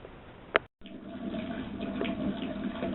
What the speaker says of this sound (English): I'm going to turn the water back on now